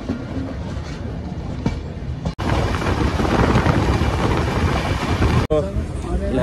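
The Pawan Express train pulls into Ghazipur railway station in India with a loud, steady rolling rumble and rattling wheels close by, briefly cut off twice, with voices faintly mixed in.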